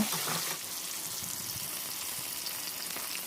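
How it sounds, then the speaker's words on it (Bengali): Fish pieces fry in refined oil in a pan with a soft, continuous sizzle and faint crackle after being flipped, steady and fairly quiet with no voices. "উল্টে দ্বিতীয় সাইডটাও ভালো করে ভেজে নিতে হবে"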